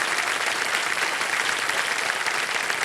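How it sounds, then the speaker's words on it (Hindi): Steady, dense applause from a studio audience on a Hindi quiz show set, filling the whole stretch at even loudness with no voices over it. "माता जी आपका तालियों के साथ आपका स्वागत करते हैं।"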